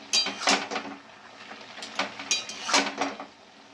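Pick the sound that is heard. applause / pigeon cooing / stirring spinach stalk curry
stirring spinach stalk curry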